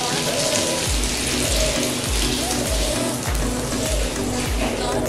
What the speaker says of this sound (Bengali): মাছ ভাজার তেলের উপরেই আমি আরও 6 টেবিল চামচ তেল দিয়ে দিচ্ছি।